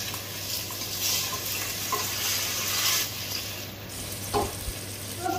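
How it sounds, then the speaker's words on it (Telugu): Whole spices such as bay leaves, cardamom, cinnamon and cloves fry with mint in a pan for turkey curry, giving a soft, continuous sizzle with a few faint stirring touches and no talking. "పుదీనా ఉన్న మన స్పైసెస్ అన్ని ఫ్రై అయిపోయినాయి"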